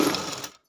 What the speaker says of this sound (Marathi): आता ह्याच्यावर आपण शिलाई मारून घेऊया फिटिंग करून